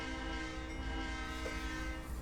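Loud, sustained chord of a Santa Fe C40-8W locomotive air horn in Train Sim World 6, holding steady over a deep diesel idle rumble for a couple of seconds.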